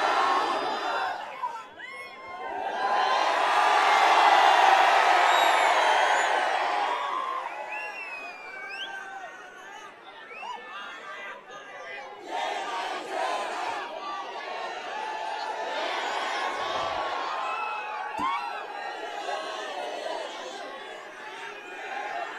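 A large outdoor political rally crowd at Azad Chowk, Aurangabad roars back in response to a shouted religious slogan, with a loud surge of cheering and shouting that fades into a restless murmur of chatter and scattered calls.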